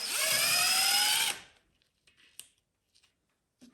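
Short whirring power-tool burst while loosening bolts on a Redmax 8500 backpack blower, followed by a few faint clicks and tool handling noises.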